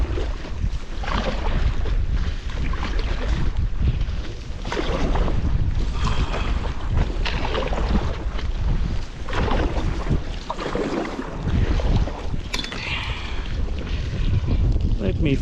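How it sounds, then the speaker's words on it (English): Strong wind gusts across an island beach on Assateague Island during a windstorm at a paddle-camping site, a loud, steady roar filling the whole stretch with buffeting rises and dips. "It's very windy."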